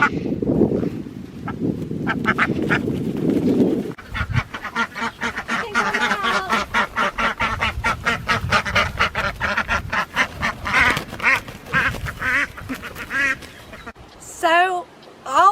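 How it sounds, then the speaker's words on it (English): Repeated duck quacks, near and fairly loud, rising into a busy chorus of quacking, with some talk and bird chatter mixed in. "all my little ducks, I call them my little quacks"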